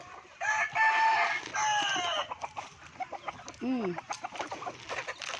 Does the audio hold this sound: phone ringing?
no